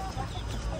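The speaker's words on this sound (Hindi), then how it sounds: "ये है मुर्गे," Roosters clucking at a pet market in Madina, a short burst of low fowl calls against a busy background, with no talk.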